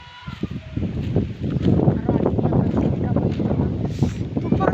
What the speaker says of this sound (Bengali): মেঘ নাই কিন্তু অনেক বাতাস আসলে